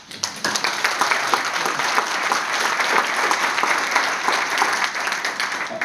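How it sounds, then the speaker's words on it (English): Conference audience at a digital health academy launch giving a round of applause, dense and lively clapping that starts up quickly and holds steady for several seconds with no voices over it. "I think it deserves a round of applause."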